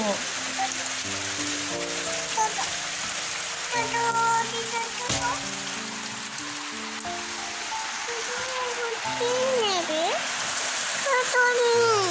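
Steady rain falls through a rainy morning, a constant soft hiss beneath a recurring melodic background tone, with no words spoken in the clip.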